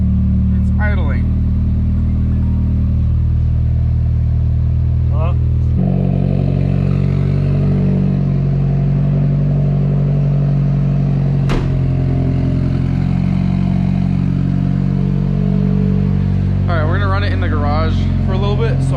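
A Nissan 240SX engine sits at idle, a low steady rumble that dominates throughout, with a brief sharp click partway and a few faint voice fragments over it.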